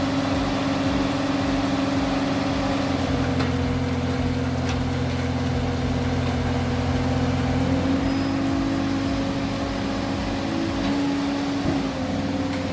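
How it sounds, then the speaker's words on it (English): Hydraulic ram of an Orca S6000P baler driving forward, a steady loud mechanical hum and drone with constant tonal whine, shifting slightly in pitch partway through. "The hydraulic ram of the Orca S6000P doesn't slam. It drives forward like a calculated punch."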